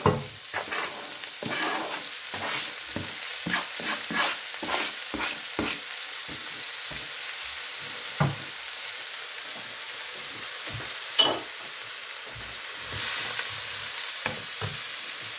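Leeks for a quiche cooking in oil or butter in a pan, giving a steady close sizzle and crackle with frequent stirring scrapes and taps throughout, no voices.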